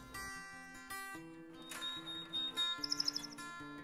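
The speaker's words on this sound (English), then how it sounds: "I love the song of the male canary." Male canaries sing near and clear, a run of bright whistled notes and trills that ends in a quick burst of rapid repeated chirps, with no talk over it.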